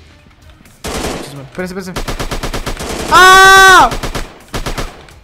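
Rapid automatic gunfire in a gorilla city-smashing prison-escape video game: several close, loud bursts of fast, evenly spaced shots, a short tonal wail in the middle, and a brief spoken word near the start.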